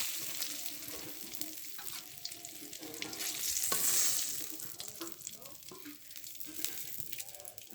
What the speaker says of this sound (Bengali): ডিমগুলো ভাজা হয়ে গিয়েছে, এবার ডিমগুলো তুলে নেব।